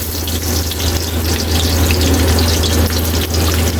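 Garlic and onion fry in hot oil, a loud, steady, dense sizzle that holds close and unbroken throughout, with no voices.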